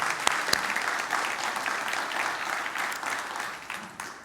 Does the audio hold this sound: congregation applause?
yes